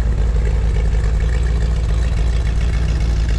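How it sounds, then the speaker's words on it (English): A restored 1965 Chevrolet Corvette convertible with a matching-numbers engine runs loud and close, its deep steady rumble holding with only slight rises as it is revved. "Go ahead and rev it up a little bit here."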